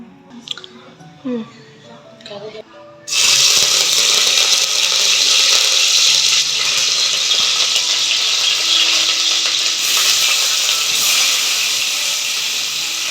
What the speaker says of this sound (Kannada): ಕಾಯ್ದಾದ್ಮೇಲೆ ನಾವು ಇದಕ್ಕೆ ಕರ್ಬೇವು ಹಾಕೋಬೇಕು ಫಸ್ಟ್ ಒಗ್ಗರಣೆಗೆ